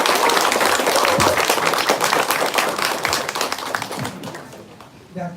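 An audience at a KOSIGN company annual workshop claps to welcome the CEO on stage: dense, close, energetic applause that thins toward the end, with some voices mixed in.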